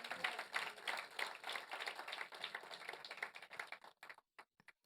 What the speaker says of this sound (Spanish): Dele una ofrenda de palmas más al Rey de Reyes